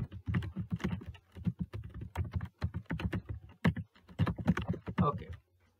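Close, quiet typing of code on a computer keyboard, with quick clusters of key clicks separated by short pauses.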